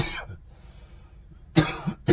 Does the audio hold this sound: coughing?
yes